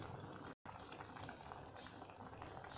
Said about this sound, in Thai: น้ำแกงของเราก็เดือดมาสักพักแล้ว